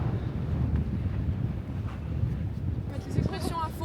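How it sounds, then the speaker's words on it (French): Strong wind on a beach buffets the microphone with a constant low roar, while a voice speaks briefly in French near the end over the gusts. "J'ai méga froid, il y a tellement de vent"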